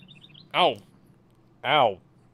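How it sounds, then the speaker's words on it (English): Two loud, close bird chirps sound about a second apart outdoors, over a steady low hum. "that was birds tweeting right in my ear"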